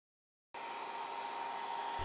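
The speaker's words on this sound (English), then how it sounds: "Now we use our hair dryer to dry the glue" After a brief silence, a hair dryer drying glue switches on and blows with a steady, close whirring roar until the end.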